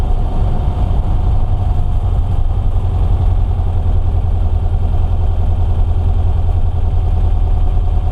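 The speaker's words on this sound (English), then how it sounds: "Engine sounds happy. Let's get some mileage on. See what's going on. Idle sounds good." A 1964 Volkswagen Beetle engine with Empi dual carburetors idles steadily with a low, even rumble and a light mechanical clatter, constant and close, with no voices.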